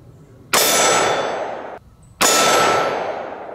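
Two loud metallic clangs from combat magnum revolver rounds striking a steel target, each a sharp ringing hit that decays slowly, about a second and a half apart.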